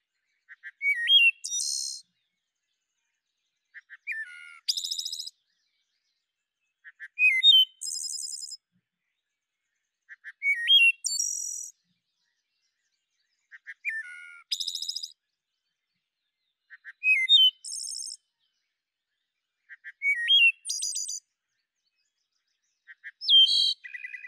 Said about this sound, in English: she had a wood thrush, and this is what she got to listen to every morning